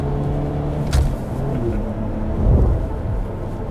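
A 25-year-old Mercedes-Benz CLK C208 with a 2.3 litre four-cylinder engine and manual gearbox, heard from inside while driving uphill: a steady low engine drone with road rumble and a couple of heavier thumps, no talking.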